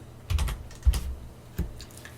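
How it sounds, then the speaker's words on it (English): Typing on a computer keyboard in a terminal: three short bursts of key clicks, close and fairly loud, with brief pauses between them. "I will simply type Gazebo."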